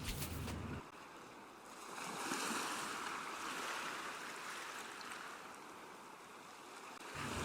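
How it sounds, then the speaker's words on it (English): Steady roaring wash of rough ocean water and wind, loud and continuous, swelling slightly midway with no voices. "But sailing on the open ocean was not easy for Moana, especially when a storm hit."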